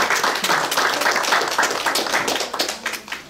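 Applause rises from a classroom audience after a correct answer, a steady patter of many hands clapping at moderate volume that thins out toward the end.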